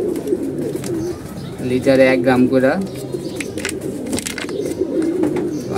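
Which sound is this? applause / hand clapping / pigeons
pigeons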